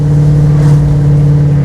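A 1972 Chevrolet Monte Carlo with electric fuel injection pulls away, its engine a steady, loud low drone with strong harmonics that swells slightly as it accelerates, with no talking over it.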